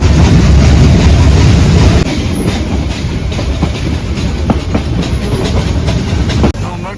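A passenger train rumbles along the rails on the Tirur to Ooty route, with a dense, loud roar and scattered rhythmic clacks and rattles throughout.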